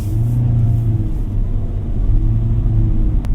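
Hyundai Stargazer X with a CVT accelerating under throttle, heard from the cabin as a loud, steady low engine drone and rumble that holds through the whole stretch, with no talk.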